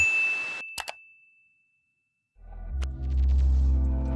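A single bright bell ding rings out and fades over silence, followed by a low rumbling hum and a faint clink.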